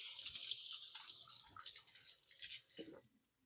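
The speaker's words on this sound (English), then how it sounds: "Let me give my hands a quick rinse." Running tap water splashes over hands being rinsed at a kitchen sink, a steady, fairly quiet hiss that cuts off at the end as the faucet shuts.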